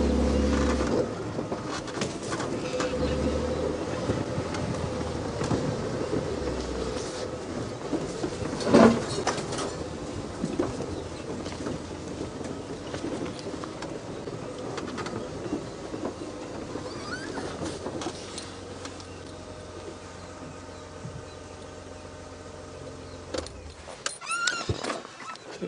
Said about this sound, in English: I'm driving quickly.